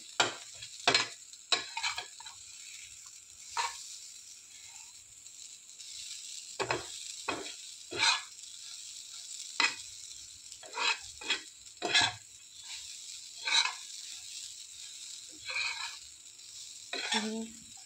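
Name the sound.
green chili chutney being roasted in a pan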